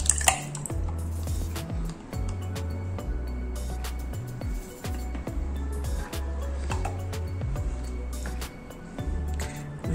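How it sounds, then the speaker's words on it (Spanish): Heavy cream poured into a measuring jug while making a microwave potato and chicken pie, a soft steady liquid trickle running beneath continuous background music. "Entonces vertemos la crema de leche."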